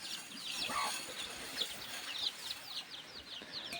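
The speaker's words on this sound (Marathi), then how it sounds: "तुम्ही बघू शकता कोंबडी, गावठी कोंबडी आहे एकदम" Desi country chickens clucking and chirping on a village poultry farm, several birds calling in short repeated notes over a low rustling background, moderately near.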